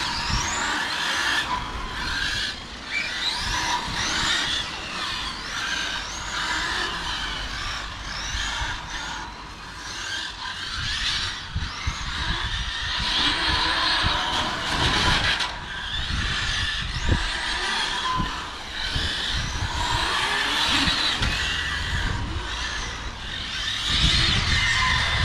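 A four-wheel-drive RC car with a central Torsen differential whines and buzzes at high pitch as it accelerates repeatedly, tyres scrabbling and skidding on the surface, engine note rising and falling throughout.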